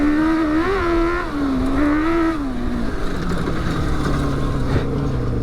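A 1000cc tuk tuk with a dirt bike setup, built for green lanes, runs loud and close in a field, its engine note rising and falling through steady revs before settling into a rough, throbbing drone.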